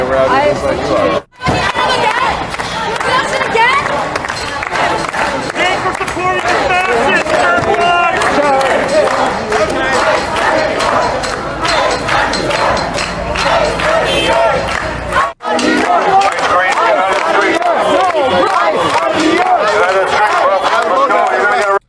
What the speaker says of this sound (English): They just outside clapping and making noise.